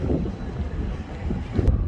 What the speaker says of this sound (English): Still pretty chilly and windy.